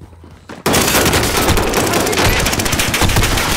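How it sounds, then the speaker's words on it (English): Sustained automatic machine gun fire in an online shooter video game, loud and continuous rapid bursts starting abruptly after a quiet moment and running to the end. "He has machine guns."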